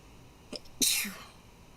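A single sneeze with a short quiet intake just before it, moderately close in a hushed setting, then calm room tone.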